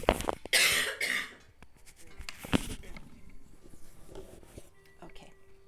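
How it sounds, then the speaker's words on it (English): A person coughs a few times in harsh, close bursts near the start, then a quieter cough follows amid low room noise and light handling sounds. "Hopefully I remember to cough away from the camera."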